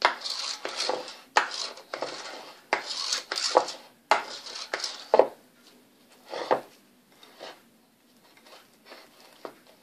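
A spoon scrapes and clinks in a rice cooker pot while thick chocolate brownie batter made with star margarine is mixed, in repeated close strokes that thin out toward the end.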